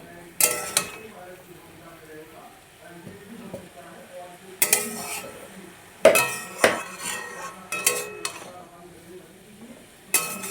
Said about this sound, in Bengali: কিছুক্ষণ নাড়বো, নেড়ে ভেজে নামাবো।